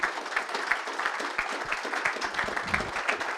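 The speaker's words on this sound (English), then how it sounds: "embarrass him with some applause" Audience at a leadership talk applauding, a sustained, even roar of many hands clapping at moderate distance, with no talk over it.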